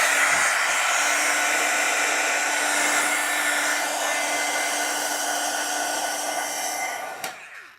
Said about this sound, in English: I'm going to have to hit this with my heat tool quite a bit to really get it dry